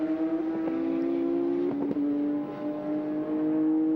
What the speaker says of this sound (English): That's the factory car there, the number 26 car. And chased by the Scuderia BMS car from Italy.